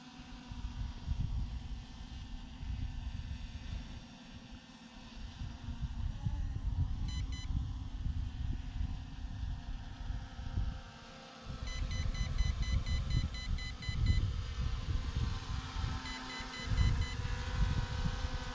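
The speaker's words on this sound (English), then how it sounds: "but I keep getting this beeping." Quick repeated electronic beeps ring out in short bursts from a Holy Stone HS720 drone over its continuous buzzing rotor hum and outdoor wind rumble.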